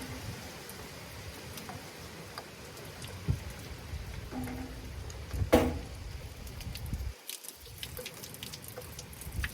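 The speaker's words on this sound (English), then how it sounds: "Rinse everything to the back and out the squeeze hole." Warm water rinsing across a Blackstone Adventure 22-inch griddle top, splashing and dripping steadily toward the back grease hole, fairly quiet with a few louder splashes midway and no talking.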